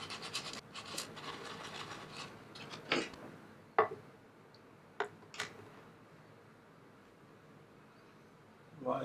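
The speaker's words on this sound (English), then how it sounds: "more sanding on the corner." Sandpaper rubs against the corner of a Warmoth Stratocaster guitar part with a faint, steady scratchy hiss, broken by a few light knocks and taps.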